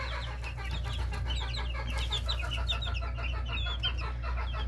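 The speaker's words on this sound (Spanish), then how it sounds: "Estos pollitos son del 26 de octubre" Many small chicks on a ranch peep in a steady, high chorus, with a low hum running underneath throughout.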